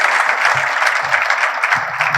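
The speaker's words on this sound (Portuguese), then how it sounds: "Gente, mais uma salva de palmas para o Moza 4." An audience at a faith-based talk on family and business breaks into loud, sustained applause, thick and continuous, with faint voices murmuring underneath.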